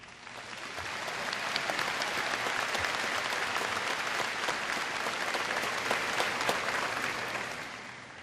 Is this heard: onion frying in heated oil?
no